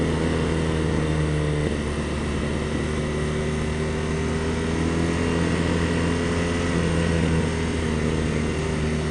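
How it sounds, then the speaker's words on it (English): A BMW R nineT Racer motorcycle on its stock exhaust drones steadily while riding, a loud continuous engine hum with shifting pitch as the throttle changes, mixed with wind rush. "Gosh, it sounds good for what it is. Pretty sure this is stock exhaust."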